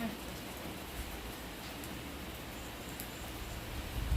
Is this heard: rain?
yes